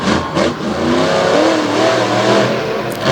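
A monster truck engine roars loudly through a speed pass along a stadium track, rising and falling revs with a harsh, sustained growl filling the whole clip.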